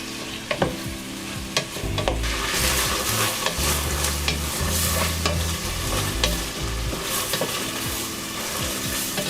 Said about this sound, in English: I'll just stir it occasionally until the outer layer is cooked.